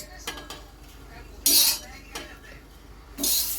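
Roasted grated coconut is scraped out of a pan with a metal utensil, making two or three bright, close scrapes and clinks separated by short pauses.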